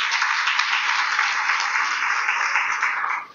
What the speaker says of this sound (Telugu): క్లాప్స్ ఇవ్వాలి అందరికీ